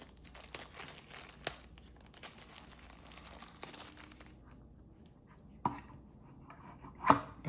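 Crinkly plastic bag from a DJI Mini 4 Pro drone unboxing being handled and opened, with soft rustles and a few sharper crackles and taps, quiet and close.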